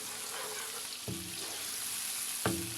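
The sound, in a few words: tomatoes and green chillies frying in pan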